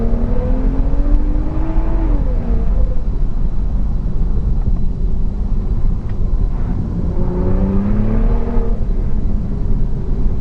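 A Stage 2 BMW 335i E92 with an MPE exhaust revs twice over a loud, rumbling idle, each rev rising and falling in pitch, the first early and the second near the end.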